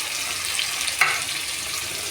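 Raw chicken hits a hot pan of frying onions, setting off a steady crackling sizzle with a brief louder burst as the pieces land.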